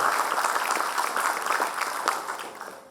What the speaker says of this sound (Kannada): ಒಂದು ಜೋರಾದ ಚಪ್ಪಾಳೆ ತಟ್ಟಿ ಅವರಿಗೆ ಅಭಿನಂದಿಸೋಣ